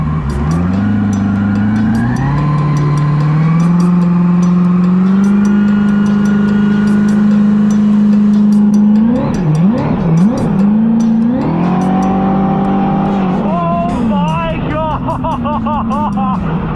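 Turbocharged V8 hyper jet ski accelerating flat out at over 90 mph, a loud, rising engine howl held at a steady high pitch, then wavering and revving in bursts with whistling turbo tones toward the end, with a rider's voice partly audible.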